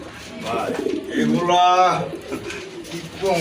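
Pigeons for sale give a soft, warbling coo close by, heard alongside people talking at the market.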